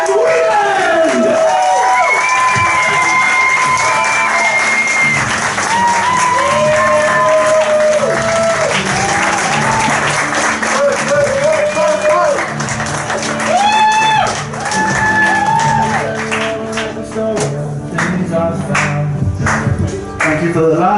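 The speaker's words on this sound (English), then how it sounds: "put your hands together for our headliner tonight, Ben Wieland!" A comedy club audience claps and cheers for the headliner, loud crowd noise with whoops and shouts rising over steady clapping, while music with sliding tones plays throughout.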